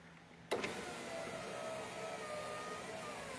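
A Chevrolet Silverado power window motor lowering the glass, a sudden start followed by a steady close whirring drone with a slight dragging strain, no talking.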